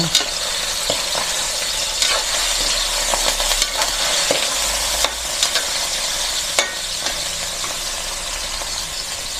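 Chicken cubes for pancit canton are stirred in a hot sizzling pan, a steady loud frying hiss throughout with repeated scraping and clinking strokes of the spatula at an irregular rhythm, no talk.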